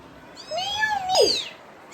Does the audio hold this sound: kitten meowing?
yes